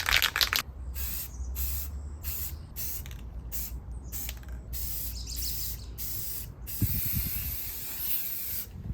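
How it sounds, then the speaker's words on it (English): Rust-Oleum spray paint hissing from a can onto car wheels, a series of short bursts separated by brief pauses, close and fairly quiet, with small clicks and handling noises between sprays. "this Rust-Oleum paint spray is super, super good"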